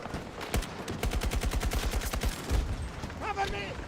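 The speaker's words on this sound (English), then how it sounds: "Who's shooting at me?" Automatic rifle fire from the Scar in a Battlefield 6 match: a rapid, steady burst of loud close shots lasting over a second, followed by a few scattered heavier shots and interface chirps.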